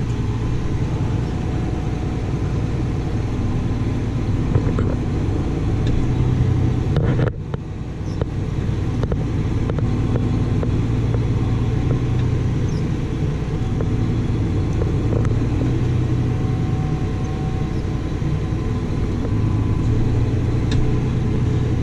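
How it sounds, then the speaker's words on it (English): Grain cart auger running off a tractor engine, a steady loud mechanical drone with a brief dip partway through, continuous and close throughout. "Auger turn it on. There it goes. Speed it up a little bit."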